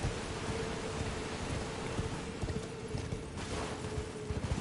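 Galloping horse hooves in the Elden Ring video game, a steady rapid clip-clop pattern running continuously under a dense, rain-like ambient wash, fairly loud and close.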